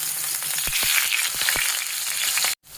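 Hilsa fish tail and eggplant pieces fry in hot oil with garlic, a close, steady sizzle broken by several sharp pops before cutting off abruptly.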